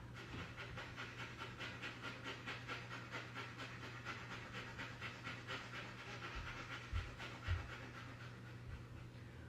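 A yoga class breathes in rapid nasal sniffs like a sniffing dog, a quick steady pulse of soft breathy puffs running continuously under a low background hum, fairly faint.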